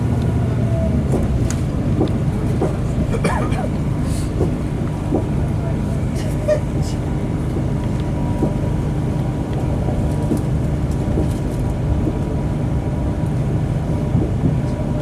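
Steady low rumble of a moving Trans-Pennine Express passenger train carriage, with continuous rolling noise and faint rattles and clicks throughout.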